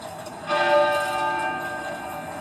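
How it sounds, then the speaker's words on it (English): The great tenor bell of Westminster Abbey tolling once, a single loud struck note that blooms and hangs with a long, slowly fading hum. "the great tenor bell at Westminster Abbey began to toll"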